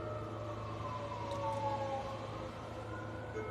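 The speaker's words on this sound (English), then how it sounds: "Yeah, I know y'all hear those sirens." Sirens wail faintly in the distance, their long tones slowly gliding over a low steady hum.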